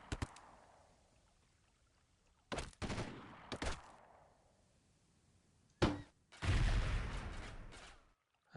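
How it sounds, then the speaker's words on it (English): Video game gunfire in loud bursts, a short pair of shots followed by longer sustained volleys with quiet gaps between them, sounding close with no talk over it. "Shit, you're shooting at me."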